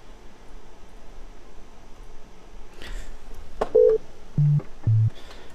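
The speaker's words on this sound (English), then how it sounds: "This is what the notes sound like so far." Sine-wave synthesizer bass notes built in Reason software: a few short, pure, clean tones sounding one after another over faint background hiss, alone without talk.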